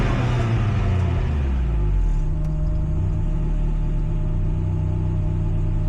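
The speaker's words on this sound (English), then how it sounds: "the car's idling really good" A 1.6-litre NA Mazda Miata engine idles on a custom idle control valve, giving a smooth, steady low rumble close to the car with no voices.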